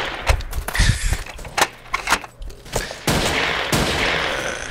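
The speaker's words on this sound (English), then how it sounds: "I'm getting shot at, and I'm also shooting people and everything else." Gunfire rattles through a match of the blocky shooter Ace of Spades, with loud, close shots in irregular bursts and a stretch of sustained firing near the end.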